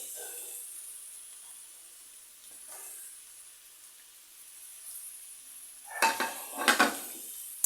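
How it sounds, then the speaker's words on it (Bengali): Ground spices (turmeric, coriander, cumin, red chilli powder) with chilli paste, ginger paste and sugar get stirred in a frying pan for a Bengali banana-flower ghonto: a faint, steady sizzle, then a few loud close scraping stir strokes near the end. "মশলাটা দিয়ে ভালো করে নাড়তে হবে মশলাটা ভালো করে কষিয়ে নিতে হবে"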